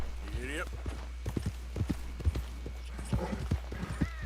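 Horse hooves clip-clopping in the video game Red Dead Redemption 2, a brisk, evenly spaced beat of nearby hoofbeats heard under continuous male speech and some in-game voices.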